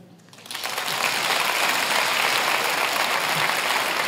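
Audience applause in Montreux swells after a brief quiet start into steady, dense clapping from a large crowd that holds loud for several seconds.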